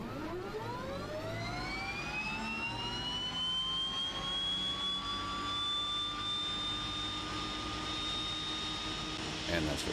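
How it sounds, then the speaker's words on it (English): A DHC-6-100 Twin Otter's left turboprop engine spools up, its rising whine sweeping upward and then holding steady, loud and close under a continuous engine roar, with people talking over it. "And we got left engine now."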